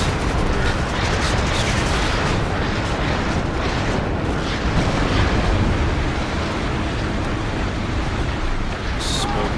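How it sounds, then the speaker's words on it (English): Rocket artillery striking a city in the war game Warno, a dense, loud and continuous roar of explosions and rumbling impacts that runs throughout, with commentary talk mixed in. "Rocket fire lands into the city. In the back line of the city, and fire erupts over this"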